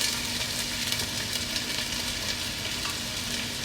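Diced onion sizzling in olive oil in a pan, a steady, even hiss of frying that continues without a break, close and moderately loud, with no one talking.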